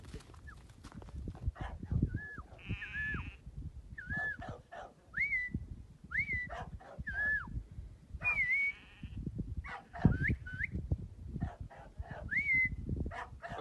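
A sheepdog handler gives a series of short whistled commands to a working dog during brace training outdoors, about ten separate rising and falling whistle calls spaced across the clip over steady wind and field noise.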